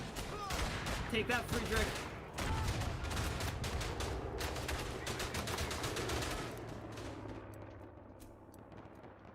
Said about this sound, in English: can I get a artillery bombardment, please?